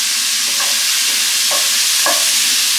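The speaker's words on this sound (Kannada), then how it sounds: "ಇವಾಗ ಇದನ್ನು ಫ್ರೈ ಮಾಡೋಣ." Peanuts frying in hot oil for avalakki oggarane, a steady close sizzle with a few soft stirring scrapes; no talking.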